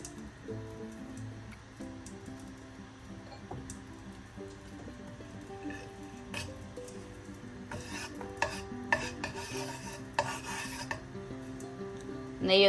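Rava semolina is stirred and roasted in a little ghee in a pan for upma, with a spoon rasping and scraping steadily against the pan, under faint background music and without talk.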